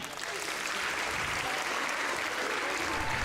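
Steady applause from a science-show audience fills the whole stretch, dense and even clapping from a large crowd without pause.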